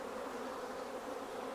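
Honey bees buzz densely around an open hive just back from almond pollination, a steady close drone with no pauses.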